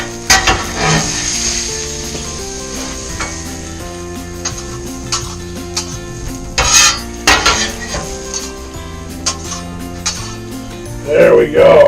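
Utensils clink and scrape as tuna steak and vegetables are plated, with soft sizzling in the background, a few sharper knocks against the plate, and a voice talking intermittently.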